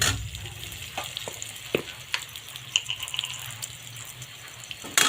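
Pointed gourd (potol) with salt being stirred in a pan over a steady low sizzle, with several sharp scraping clicks from the spoon against the metal spread through the clip.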